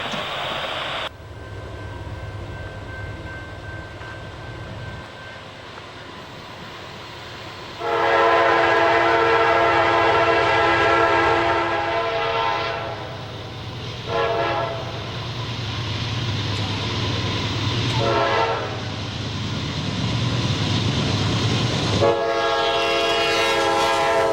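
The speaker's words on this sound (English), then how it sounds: "Coal train 650 brings bituminous coal to the CNX Marine terminals in Baltimore" A Norfolk Southern coal train hauling bituminous coal rumbles steadily past, its loud horn sounding in several long blasts and shorter bursts over the continuous roll of the cars.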